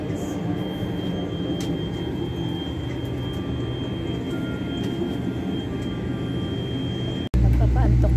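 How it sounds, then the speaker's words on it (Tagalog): Constant droning cabin and engine noise inside an airplane restroom with a thin high whine, ending in a sudden loud low whoosh like a vacuum toilet flush. "Nandito ko sa loob ng CR ng aeroplano."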